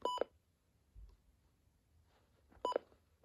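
Two short electronic beep bursts from a small Midland WR300 alarm clock radio, a few seconds apart, quiet with near silence between them.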